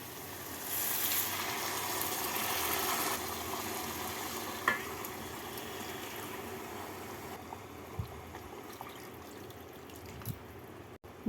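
Hot water is stirred into khichdi in a pot, a soft simmering hiss with light sloshing, a few faint knocks and scrapes of the spoon, quiet and close with no voices.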